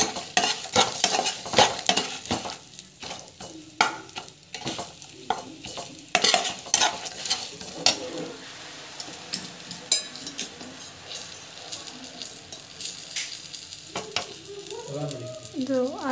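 Ingredients for puliyogare sauté in a pan, with frequent scraping stirs and clanks over a soft sizzle, busy at first and then settling to a gentler fry with a few light utensil taps.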